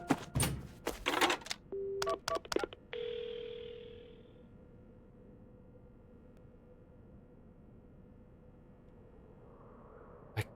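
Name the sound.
telephone dialing an ambulance in Paranormasight video game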